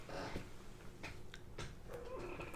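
A pet cat whines indoors after being picked up and held, giving a few short, thin mewing cries spread over a couple of seconds, fairly quiet against a steady room background.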